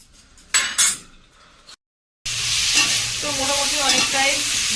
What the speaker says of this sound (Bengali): ভাজাভুজি রান্না হয়ে এসছে